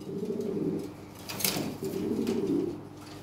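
Soft, repeated cooing from a European Lahori pigeon, two rolling low coos in close succession, heard nearby with faint background noise.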